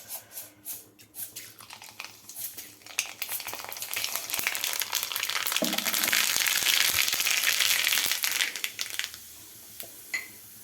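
Mustard seeds go into very hot oil for a Kerala home-style curry, starting with sparse pops and crackles, then swelling into a dense loud sizzle and spatter before thinning out to scattered pops.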